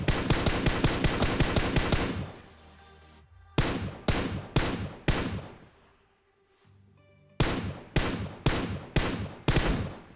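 Gunfire from PUBG, a video game, arrives in sharp, loud bursts of rapid shots separated by short pauses, sounding like controlled tap firing of a gun.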